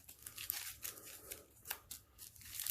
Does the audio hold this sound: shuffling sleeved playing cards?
yes